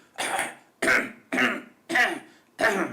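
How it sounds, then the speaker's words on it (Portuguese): A run of five harsh throat-clearing sounds, close and evenly spaced, with brief pauses between them and no talking. "A segunda é evitar pigarros, aquele..."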